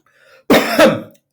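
One short, harsh cough from a person with a cold, close and loud, lasting under a second, preceded by a faint breathy sound and then silence.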